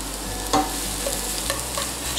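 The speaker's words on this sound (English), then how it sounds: "When the oil starts to bubble, add in the scallions and garlic." Scallions and garlic stir-frying in bubbling hot oil in a pan for Korean black bean noodles, a steady close sizzle broken by a few scraping stirs, with no voices.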